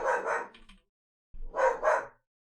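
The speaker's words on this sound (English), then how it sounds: "Hold on, I don't know why he's barking." Two quick pairs of dog barks ring out close by, with a brief pause between the bursts and silence around them; nobody talks.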